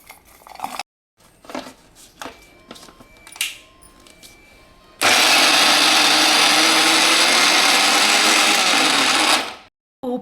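A mixer grinder whirs loudly and steadily for about four seconds, grinding garlic with salt water into a paste for hog plum pickle, after a few light clinks and handling knocks.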